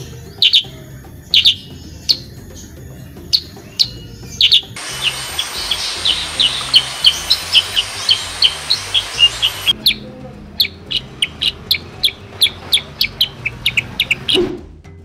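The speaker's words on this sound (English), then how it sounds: "The sound of this bird is quite melodic, similar to a sharp whistle that repeats itself." Black-headed bulbul song, sharp repeating whistled notes in clear rhythmic series, fairly close, with a dense burst of overlapping chirps midway against a quiet outdoor background.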